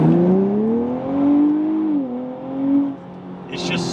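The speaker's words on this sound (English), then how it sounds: "So we'll do a little bit of acceleration like you already saw, but it just pulls really easily." 2023 Nissan Z Performance with a 9-speed automatic accelerating from second gear, its engine note climbing steadily through the revs, dipping at gear changes, then settling as a brief higher whoosh appears at the end.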